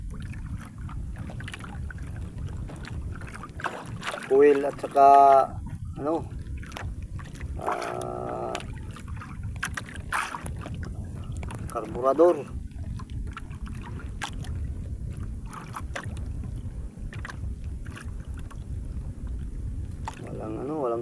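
Oars paddle a small boat on open water, with periodic splashing strokes beneath wind noise and someone talking throughout.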